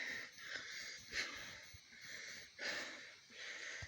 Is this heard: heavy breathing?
yes